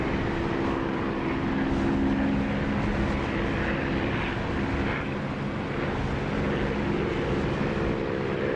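Steady, loud drone of an aircraft engine in the DCS flight simulator during a landing approach, a constant propeller-like hum with sustained low tones that shift slightly in pitch, with no talking.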